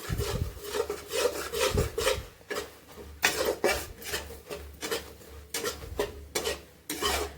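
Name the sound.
dry-roasting gram flour (besan) in a pan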